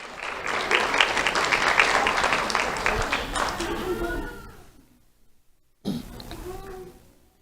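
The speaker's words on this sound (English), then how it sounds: "Round of applause for Owen Boston." Audience applause for a young honoree at a community awards ceremony, a dense burst of clapping that fades out after a few seconds, followed by a quiet pause and a brief cough or throat clearing nearby.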